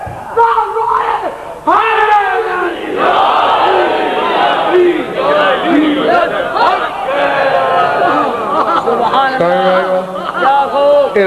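A large crowd at a religious sermon gathering chants a religious slogan in unison with raised hands: loud, continuous massed voices rising in repeated shouted phrases, filling the whole stretch with no pause.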